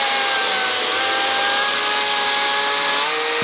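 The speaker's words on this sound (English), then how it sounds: "So we're just cutting the end of our log" A chainsaw riding on rollers in a jig cuts square across the end of a log, making a loud, continuous high buzzing whine that holds steady throughout, with no voices.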